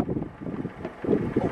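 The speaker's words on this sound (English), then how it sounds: "it's so windy" Wind gusting along a street, a steady low rumbling roar of buffeting air against the microphone, swelling briefly near the end with no voices over it.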